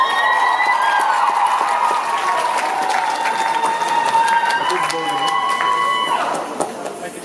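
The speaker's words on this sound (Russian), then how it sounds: "ваши аплодисменты, команда Квест," Applause and cheering from the audience at a KVN comedy show for the Yakutsk team, a dense, steady crowd roar with whistle-like tones over it, loud and continuous before easing near the end.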